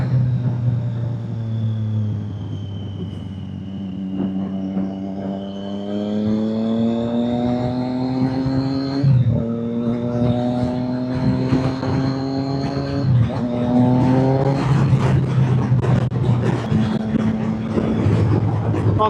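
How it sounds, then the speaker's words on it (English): A car engine revs and drops through downshifts with exhaust pops, its pitch sweeping up and down in repeated cycles, loud and continuous as if heard from the vehicle on the road. "Oh, look at them pops on the downshifts."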